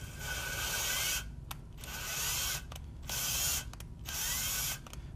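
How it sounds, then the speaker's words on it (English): A drill driver whirs in short repeated bursts while lapping valves for an R53 MINI Cooper S engine, spinning for about a second at a time with brief pauses and clicks between runs. "I can attach the valves to my drill driver here."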